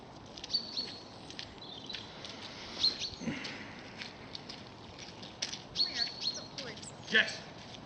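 Small bird chirps and tweets outdoors, bluebirds nearby, brief high calls scattered over a quiet ambient background with soft rustling and patter, intermittent and moderately distant.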